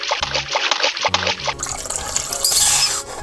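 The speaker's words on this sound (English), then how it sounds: "Yeah, I can squirt so much water." A toy water squirter sprays and spatters water in quick, wet bursts that trickle and drip. Steady low background sound runs beneath.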